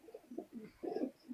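Pigeons coo in a few soft, rounded calls close by, with short pauses between the phrases and no voices.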